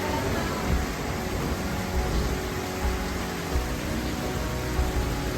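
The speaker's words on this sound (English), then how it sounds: "Oh shit, it has started hailing." Hail falling in Shoja, Himachal Pradesh, a dense, steady hiss of countless small impacts, loud and close, with no pause.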